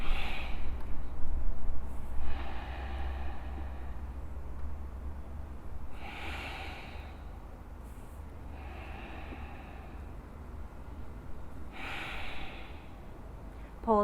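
Deep, slow breathing during a yoga exercise, with long airy inhales and exhales repeating about every three seconds, close and steady against a faint low background hum.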